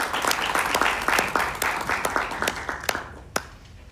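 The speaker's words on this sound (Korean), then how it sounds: "큰 박수로 모시겠습니다." Scattered audience clapping at a Jeju school event demonstrating an AI cooking robot, a few distinct hand claps that dwindle from a modest round to isolated sparse claps by the end.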